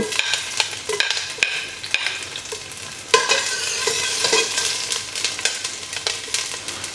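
Garlic sautéing in a hot pot, a steady bright sizzle with repeated scraping stir strokes of a spatula against the metal, close and continuous for the whole stretch with no talking.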